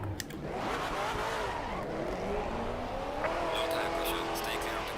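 A race car engine cranks and catches, then revs with rising whine, close and loud, while a voice talks over it.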